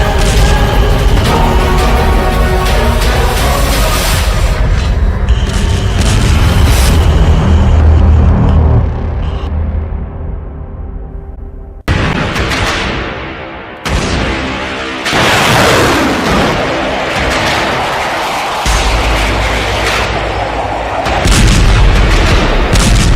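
An artillery barrage on the Russia-Ukraine front thunders with continuous heavy booms, loud and dense, merging into a rolling roar with brief lulls and renewed salvos.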